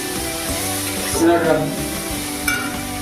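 Marinated soybean chunks fry with spices in a pan, a steady close sizzle with scraping stirs and a brief clink near the end, no one speaking.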